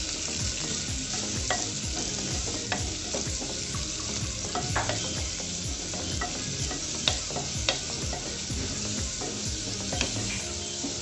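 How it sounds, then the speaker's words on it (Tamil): Onions, tomatoes, garlic and dried red chillies sauté in a pan over medium flame for gongura chutney, with steady sizzling and frequent scraping stirs throughout and no voices. "வெங்காயம், தக்காளியை நல்லா வதக்கி விட்டுக்கலாம்"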